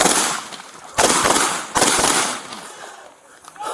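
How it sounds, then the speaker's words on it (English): Gunshots fired at a police officer during an arrest: two sharp, loud broadband bangs about a second apart, each followed by a ringing decay, with a fainter burst near the end. "Shots fired. Shots fired."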